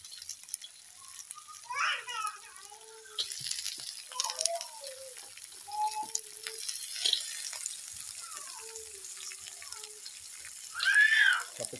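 Mud crabs go one at a time into a wok at home, bringing bursts of wet sizzling and water splashes among clattering handling noises, with a voice talking over the cooking.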